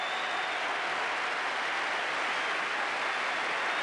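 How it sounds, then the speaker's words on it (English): A cricket crowd gives Vivian Richards a standing ovation after his double century, producing a steady, dense roar of applause that holds evenly throughout with no voices above it. "Tremendous applause, a standing ovation for the great player."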